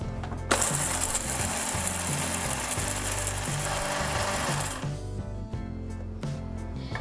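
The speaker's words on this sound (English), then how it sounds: "So what we'll do is we'll grind chuara to a powder form." An electric grinder whirs loudly as it pulverises dried dates (chuara) into powder, a steady rattling motor roar with chunks knocking inside the jar, running for about five seconds before cutting off and winding down.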